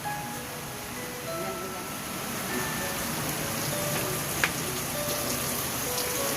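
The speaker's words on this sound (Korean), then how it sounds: "갑자기 비가 막 쏟아지네요." Heavy rain pours down steadily in the Philippines, a dense, even hiss and patter close by with no breaks, and a single faint knock partway through.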